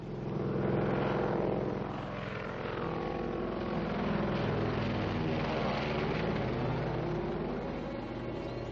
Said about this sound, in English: That's Barston's plane.